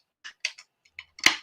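A can of Space Kitty Citra double IPA beer is opened up close with a few light metallic clicks of the tab, then a sharp hissing pop as it cracks open.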